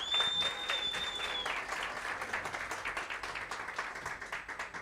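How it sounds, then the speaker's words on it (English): Applause from a workshop audience in a room, steady dense clapping that starts loud and gradually thins and softens, heard alone without talk. "Let's give him a big round of applause."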